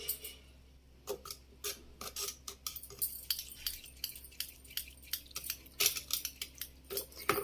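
Curd whisked with a wire whisk in a vessel, producing quick irregular metallic clinks and scraping strokes at close range, with no one speaking.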